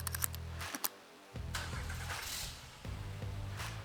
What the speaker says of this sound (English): Now insert the key into the ignition and start the vehicle.